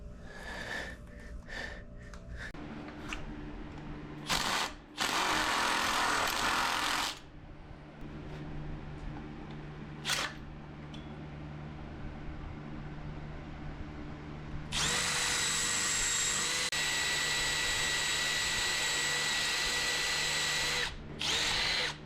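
Power drill boring out a stuck screw on a Honda FL250 two-stroke engine, several short bursts followed by longer sustained runs, loud and close, no talking.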